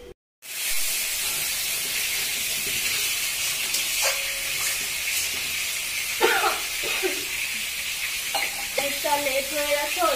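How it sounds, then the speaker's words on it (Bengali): Chicken fries on a gas stove with a steady, hissing sizzle, broken by scattered clinks and scraping as it is stirred, close by with no voices. "আমি গ্যাসে রান্না করছি চিকেনটা"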